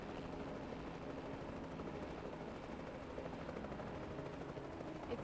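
An aircraft engine drones in the video game Reverse 1999, a continuous, faint, even helicopter-like rotor hum with no breaks.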